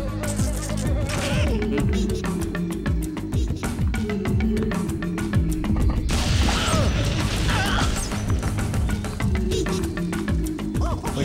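Explosive bees in the Timesplitters 2 video game, a buzzing swarm under rapid repeated bangs and crashes of game combat, dense and loud throughout.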